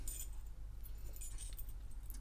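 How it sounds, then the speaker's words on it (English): A ring of keys for lockable safes jingles and clinks as it is handled, a steady light metallic rattle close by with no talk. "what are these keys?"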